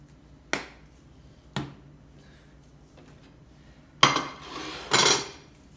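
Seasoned shrimp are tossed in a bowl, producing a few sharp clinks and taps against the dish followed by wetter, scraping bursts of mixing, all close and without talk.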